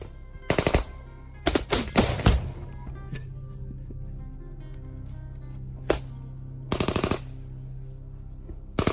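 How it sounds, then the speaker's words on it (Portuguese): Gunfire in combat in Ukraine, several sharp bursts of automatic fire with single shots between, loud and close, fading into a low background hum. "Possível tiro, fogo na parede."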